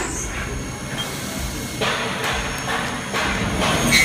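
Steady CNC machine hum with a faint high whine, punctuated by a few short bursts of cutting noise as a drill pecks and pauses in a chip break cycle.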